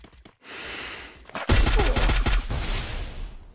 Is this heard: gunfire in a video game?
yes